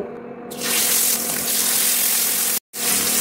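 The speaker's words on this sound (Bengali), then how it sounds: "এবার আমি প্যানে এক এক করে মাছগুলো দিয়ে দেব।" Pomfret fish pieces slide one by one into hot oil in a pan, setting off a loud, steady hiss and crackle of frying that fills the clip, broken by one brief silent gap.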